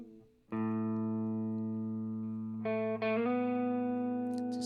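An electric guitar plays through a PRS Dallas amplifier plugin on a clean preset, sustaining a bright chord that rings steadily before new notes are struck and held.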